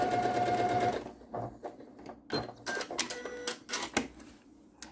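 A sewing machine stitches a quilt seam in short bursts, whirring runs separated by brief pauses and soft clicks, close and fairly loud with no talk over it.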